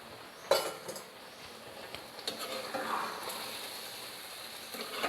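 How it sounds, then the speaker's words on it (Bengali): A metal utensil clinks against a pan while food is stirred, with scattered light knocks over a quiet sizzling background. "আবারও একটু নেড়ে দিচ্ছি"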